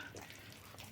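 Water pours steadily from a tap for bread dough, a faint, brief splashing trickle with no speech.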